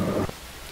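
Sound-effect rain in a Hindi radio play of Ashadh Ka Ek Din: a dense, loud wash of falling rain that cuts off abruptly after about a third of a second, leaving a faint quiet hiss.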